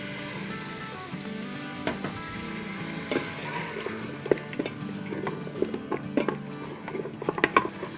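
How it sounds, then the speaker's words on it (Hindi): Mutton sizzles in a pan with garlic and green chilies while being stirred, a steady frying hiss broken by scattered scraping and clinking stir strokes, close and moderately loud with no talking. "बस इसको हम थोड़ा सा हिला लेंगे, 1 आध मिनट हम इसको भून लेंगे।"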